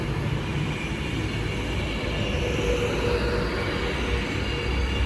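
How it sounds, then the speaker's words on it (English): An Avanti West Coast Class 390 Pendolino pulls out of Stafford station on the West Coast Main Line, a loud steady rumble of wheels and traction with faint squeal, no voices. "And also now departing is the 12:42 Avanti West Coast service from Liverpool Lime Street"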